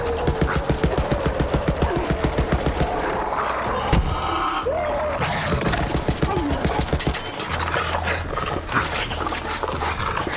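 Rapid gunfire from a weapon in the shooter game Borderlands 3, dense and continuous throughout, with overlapping game effects and loud bursts.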